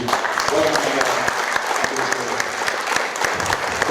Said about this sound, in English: please a very big round of applause